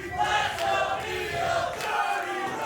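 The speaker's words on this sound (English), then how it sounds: "Dueling chants. Crowd loves both champ and challenger." A wrestling crowd at a West Coast Pro women's championship main event trading dueling chants, the rhythmic, many-voiced chanting rising and falling in waves and filling the arena.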